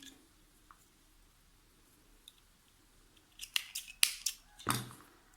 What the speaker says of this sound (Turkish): bir kere şöyle sıkılaştırıp ipimi keseceğim